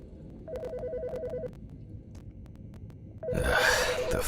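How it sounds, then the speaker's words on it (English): Telephone ringing indoors: a warbling electronic ring burst, a pause, then a second ring that starts as a loud rushing noise cuts in. "The fucking phone."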